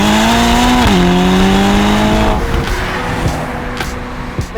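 A 2015 Ferrari California T drives past close and loud, its engine note holding a steady harmonic tone, dropping in pitch around a gear change, then fading as the car pulls away.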